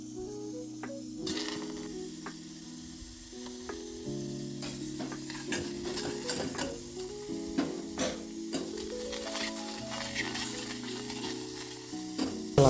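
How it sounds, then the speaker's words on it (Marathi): Onion, tomato and garlic roasting in oil in a pan, with loud crackling sizzle and repeated scraping and clinking of a spatula stirring, close up and without speech. "कांदा, टोमॅटो अँड लसूण हे भाजून घ्यायचं आपल्याला."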